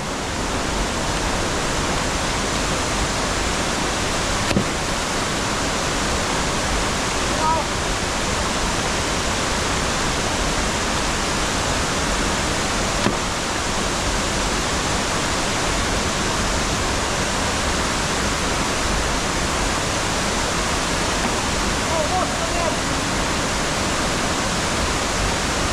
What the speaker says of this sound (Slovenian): Čudovit slap, prosto padajoč.